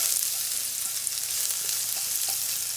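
Shallots fry in a pan for vegan pad thai, a dense bright sizzle holding steady and close with faint stirring clicks, no voices.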